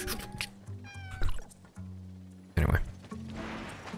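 A cat meows in the video game Tower of Fantasy, a few short, close meows and a drawn-out whiny call standing out over a steady game background hum, with no one talking.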